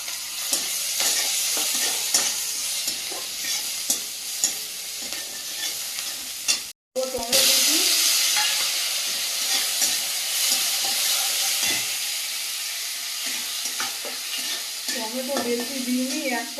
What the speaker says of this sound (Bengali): তেজপাতা দিয়ে দেবো পাঁচ ফোড়ন আর এখানে পচানো রসুন আর পেঁয়াজ দিয়ে দেবো